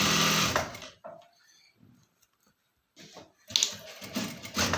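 A sewing machine runs in loud bursts while stitching a strip onto a readymade body-fitting top to hold shoulder buttons, with a near, steady whir at the start, a quieter pause of handling, then the motor resumes strongly.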